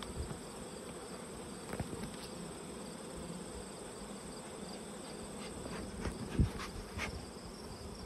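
Honey bees buzz steadily around two beehives in a yard during a hive inspection, a continuous low drone with insect hum throughout and occasional soft handling knocks.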